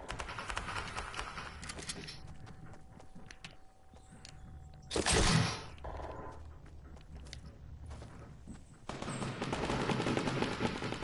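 Gunfire from a player's gun in a video game comes as rapid bursts of automatic shots, with a loud burst partway through and a denser stretch near the end, mixed with other game noise.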